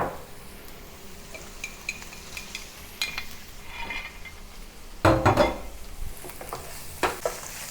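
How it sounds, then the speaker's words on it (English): Tofu tossed into a hot wok with scallion whites for Sichuan fish-fragrant eggplant, with a soft sizzle, scattered utensil scrapes and clinks, and a louder burst of stirring and frying near the end. "Next, add the tofu."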